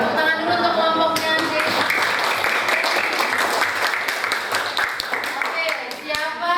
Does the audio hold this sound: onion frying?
no